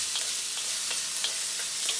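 Pork steak frying in a pan over very high heat, a steady close hiss of sizzling oil with small crackling pops throughout, no voices.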